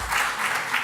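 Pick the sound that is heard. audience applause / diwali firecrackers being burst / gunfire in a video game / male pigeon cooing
audience applause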